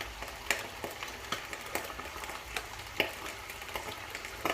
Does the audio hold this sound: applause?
no